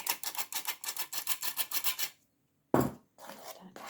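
Pizza dough made with mayonnaise and cheese and no egg is worked by hand: a dozen quick rhythmic rubbing, squishing strokes, a brief pause, a dull thud, then more kneading, close and with no talking.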